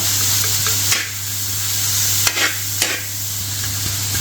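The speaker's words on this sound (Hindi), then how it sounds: "अनियन को मैं सौटे कर लूँगा अच्छी तरह।" Chopped onions sauté for a Lahori dhaba-style tawa chicken, giving a steady close sizzle with a few sharp stirring scrapes and no voices.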